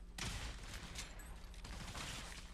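Rapid bursts of gunfire ring out as AI-controlled characters shoot at spawning zombies in a third-person shooter game, steady and fairly quiet under a low background hum.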